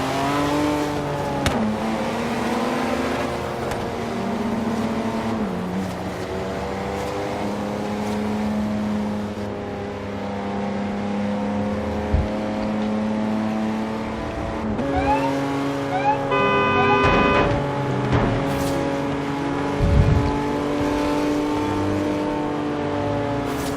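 Several car engines drone and rev in Forza Horizon 3, a Toyota, Porsche, Mercedes and Audi among them at a car meet and cruise. Loud steady engine hum fills the whole stretch, with shifting pitch, revving surges and brief scrapes or knocks near the end.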